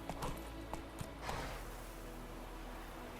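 Faint, rhythmic horse hoofbeats clopping at a slow pace over a steady low background hum in The Witcher 3: Wild Hunt, with no talking.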